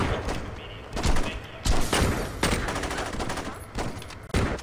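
Rapid bursts of pistol gunfire in the Saints Row 2 video game on Xbox 360, loud and close, coming in repeated volleys with short gaps between them.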